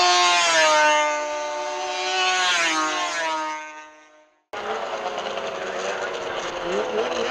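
Racing snowmobiles on ice at the World Championship Snowmobile Derby send up loud, whining engine tones that sweep in pitch, then cut abruptly to a rougher, steady roar.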